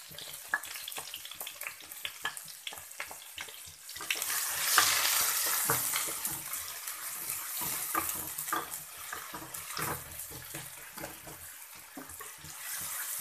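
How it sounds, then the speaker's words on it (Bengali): Small fish fry in a pan for a chochchori dish, a close, crackling sizzle with spitting pops and stirring scrapes that swells loudly midway before settling into a steady fry. "এটা একটু ভেজে নেব।"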